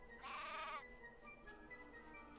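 A sheep bleats in the video game Craft the World, one loud wavering bleat near the start, then quieter game ambience with no one talking.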